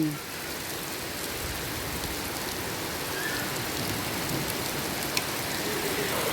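Rain pours steadily in a rural village during the rainy season, a dense continuous hiss of drops with an occasional faint voice in the background.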